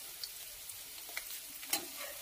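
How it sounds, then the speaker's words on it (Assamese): Sesame-coated xutuli pitha fries in hot oil in a kerahi wok, giving a steady close sizzle with scattered small pops and crackles and no voices. "কেৰাহীত তেল গৰম কৰিছোঁ আৰু এটা কৰি দি গৈছোঁ"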